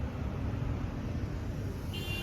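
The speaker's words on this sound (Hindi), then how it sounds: "और फिलहाल लगे ही जाम ट्रैफिक एकदम।" Jammed traffic on a road near Manali and the Atal Tunnel, with a steady rumble of idling vehicles close by and a short car horn toot near the end.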